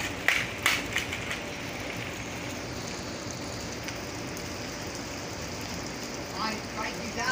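Steady rain hiss from a Minecraft-style video game, a constant broadband wash filling the whole stretch, with a few sharper taps near the start and faint game sounds under it.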